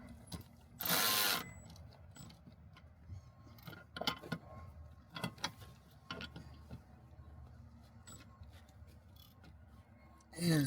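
A ratchet with a 17 mm socket tightens a bolt on a table mount, giving close, quiet clicking in short bursts with some metallic handling noise.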